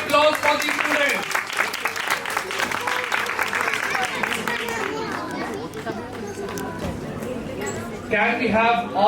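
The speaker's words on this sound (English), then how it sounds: "Give them a big round of applause for these students." An audience at a student dance crew show applauds the young dancers, with clapping and cheering mixed with loud chatter and a voice on a microphone talking over the crowd.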